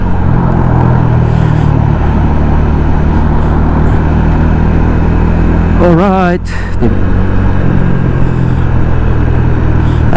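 Steady, loud engine and road rumble fills the cabin of a vehicle driving through Philippine traffic near a Nissan Patrol and a container truck, with a brief voice breaking in midway.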